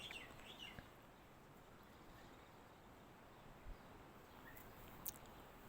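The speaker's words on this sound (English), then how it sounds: "Can you hear the birds?" Birds chirp faintly outdoors in sparse, scattered calls over a quiet, steady background hiss, with no talking.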